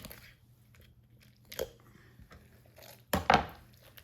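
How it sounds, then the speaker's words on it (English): A sharp knife cutting the backbone out of a turkey: quiet scraping and crunching through bone, with a faint cut near the middle and a louder, harder crunch toward the end, close and otherwise quiet. "get a really sharp knife"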